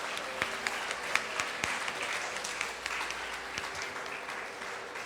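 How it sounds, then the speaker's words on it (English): An audience at a school annual day celebration applauds young performers, steady continuous clapping from a sizable crowd with a few louder individual claps standing out, heard from some distance. "Please give a huge round of applause."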